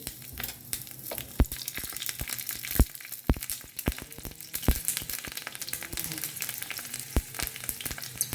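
Mustard seeds and green chilies spit and sizzle in hot oil in a pan, with dense crackling pops close by and no talk over it.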